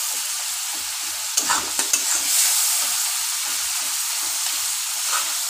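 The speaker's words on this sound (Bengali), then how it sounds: "মশলাটা যাতে পুড়ে না যায়, অল্প একটু জল দিয়ে এটাকে কষাবেন।" Spice paste sizzling and frying in a pan with a splash of water, for sesame okra, with steady hiss and a few sharp spoon taps and stirring scrapes near the start, continuous and close.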